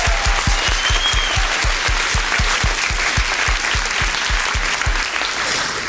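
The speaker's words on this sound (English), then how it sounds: "Let's give them another round of applause." Audience applause at a Pecha Kucha Night Dundee presentation event: a dense, steady clapping from a sizeable crowd that holds for several seconds, with a regular low thumping beat running underneath.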